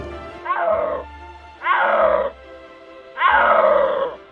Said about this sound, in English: Suddenly I heard this roaring call.